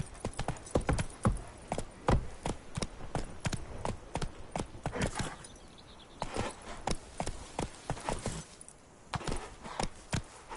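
Roach, the horse in the Witcher 3: Blood and Wine video game, pounds along with crisp, close hoofbeats in quick clustered runs. The strikes thin out briefly at times, then pick up again.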